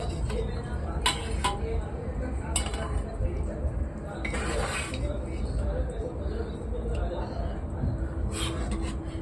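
Cooked mutton being scooped out of a pressure cooker into a dish, with sharp metallic clinks and scrapes of a spoon against the pot over a steady background hum.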